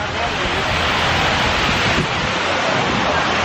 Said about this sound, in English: Probably hear the waterfall behind me.